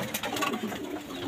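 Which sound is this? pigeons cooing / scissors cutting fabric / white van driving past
pigeons cooing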